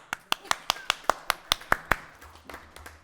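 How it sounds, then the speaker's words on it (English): A single person claps about ten times in a steady rhythm at a village board meeting, the sharp claps fairly close, then trailing into quiet room noise. "I can't talk, but I can clap."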